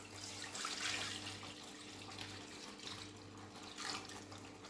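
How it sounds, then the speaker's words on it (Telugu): One litre of milk pours into a pan on the stove for fruit salad, a steady liquid splash and gush running continuously at close range with a low hum beneath, no talk. "ఇప్పుడు స్టవ్ ఆన్ చేసుకొని 1 లీటర్ పాలు వేసుకొని"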